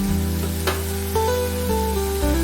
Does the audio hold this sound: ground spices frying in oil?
yes